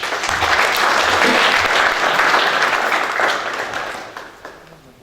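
An audience at a magazine launch gives warm, dense applause for an embassy secretary from Cameroon, holding steady and loud before tapering off toward the end.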